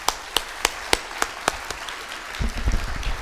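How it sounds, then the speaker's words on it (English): Audience applause at an ASFPM plenary session in 2014: a string of sharp, evenly spaced claps, fairly close and distinct, thinning into a low rumble of shuffling noise at the end. "I really want to give a round of applause to the Nature Conservancy and their leadership of what they do"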